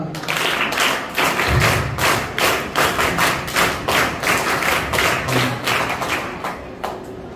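A school audience at Hedgewar High School, Ponda, claps in a steady rhythm to welcome the headmaster, producing dense repeated thuds and slaps that fill the room evenly before tapering off.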